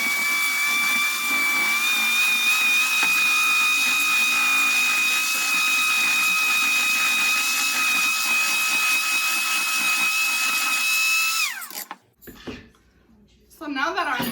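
Eggs and sugar for a chocolate tart whipped with an electric mixer: a loud, steady high-pitched motor whine running continuously for about twelve seconds, then cutting off abruptly into quieter rustling.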